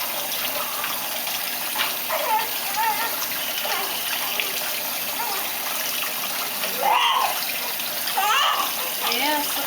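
Warm water running and splashing in a baby's first bath, a steady soft gush with occasional splashes, while an adult's voice talks gently over it.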